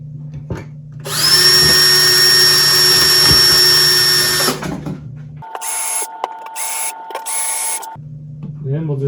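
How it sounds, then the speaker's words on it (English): A power drill whines loudly for about three seconds, then a lighter, higher buzz runs intermittently while drilling pilot holes in wood for an arcade cabinet's LED base plate, with a few clicks and knocks. "I'm just going to drill some pilot holes"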